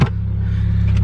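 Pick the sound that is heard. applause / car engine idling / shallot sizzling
car engine idling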